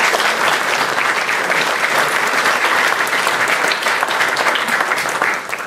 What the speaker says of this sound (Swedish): Vi tar en applåd.